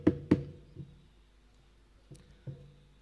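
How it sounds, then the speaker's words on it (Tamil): Several hard knocks land on a door in uneven pairs and singles, loud and close with short hollow decays and silent gaps between them. "வெளியே நின்று கதவை தட்டுறப்பா"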